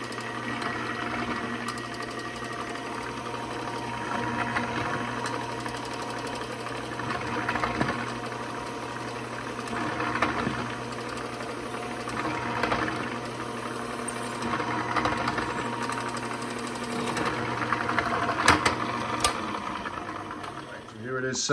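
A drill bores aluminum out to final size for 1/4-20 bolts. A steady motor whine runs for about twenty seconds with a gently pulsing rise and fall.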